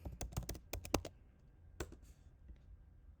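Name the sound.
typing an email address on a computer keyboard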